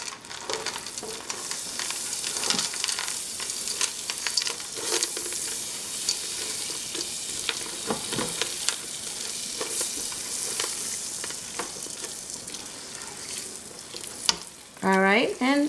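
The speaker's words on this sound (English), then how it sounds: "We're gonna go ahead and add our chocolate chip and semi-sweet chocolates in there, and have those melt also with the butter." Semi-sweet chocolate and chocolate chips melting with butter in a pan on the stove, giving a steady soft sizzle with scraping stir strokes throughout, close and fairly loud, ending in a few brief clatters.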